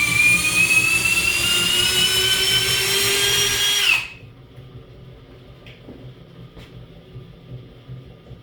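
A power drill whines loudly and steadily for about four seconds, its pitch sliding slightly, then cuts off abruptly, leaving quiet room tone with faint clicks.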